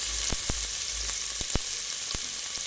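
Chopped onion frying in about two spoonfuls of hot oil for Kolhapuri mutton pickle, a steady close sizzle broken by several sharp clicks of a spoon stirring against the pan.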